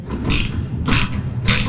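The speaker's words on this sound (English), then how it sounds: "we're gonna tighten down our pieces here at the clevis, and then also out here on the ends of our drawbar" Bolts being tightened with a wrench on the clevis and drawbar ends of a John Deere 42-inch lawn sweeper, giving three short bursts of close ratcheting clicks separated by brief pauses.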